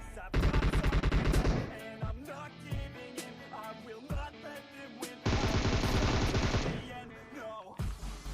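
Gunfire in a PUBG Mobile match: two long bursts of rapid automatic fire bracket scattered single shots and short volleys, loud and close throughout.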